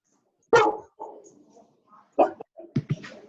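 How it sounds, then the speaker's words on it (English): A dog barks into a meeting-call microphone, several sharp barks and yips in an uneven cluster, close and fairly loud, with no talking between them. "It sounded like you were a dog."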